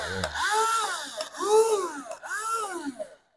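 Battery-powered bike-maintenance power tool run in three short bursts, each whirring up and winding back down, loud and close with brief pauses between runs.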